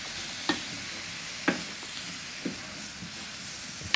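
Curry chicken sizzles in an electric skillet with a steady frying hiss, broken by a few sharp scrapes and knocks as a utensil stirs the pan.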